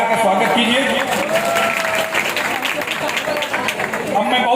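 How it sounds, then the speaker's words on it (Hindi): An audience at a religious night jagran in Devkund claps together to greet performers, a dense, moderately loud patter of applause with a voice talking over it. "आप लोग तालियों से कलाकार का स्वागत कीजिए।"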